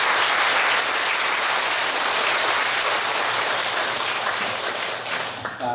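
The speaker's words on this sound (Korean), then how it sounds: "박수 한번 치세요" An audience claps in sustained, dense applause at an indoor talk, steady and fairly loud before tapering slightly at the end.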